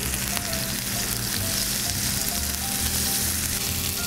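Venison steaks sear loudly in a crowded hot pan, giving a dense, continuous crackling sizzle that holds steady throughout with no voices.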